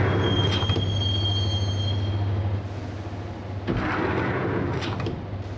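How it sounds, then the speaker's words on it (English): A train rolls on rails in the Max Payne video game on PS2, a steady loud rumble with high metallic wheel squeals rising and fading twice. "the train doors had already shut behind me, and I was in for the ride"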